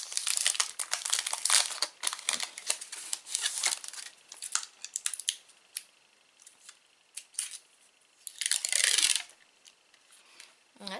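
Plastic wrapping crinkles and rustles as a package holding a rubber stamp is opened, close and busy, in irregular bursts with quieter gaps.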